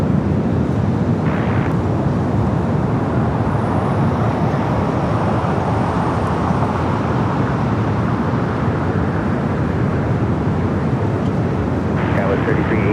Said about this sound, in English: All right, we got that 777 in now rolling down.